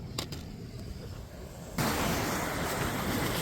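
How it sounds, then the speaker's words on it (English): Ocean surf crashes onto a beach, with rushing wind and water noise that swells suddenly into a loud, steady roar of breaking waves. "The waves are too high."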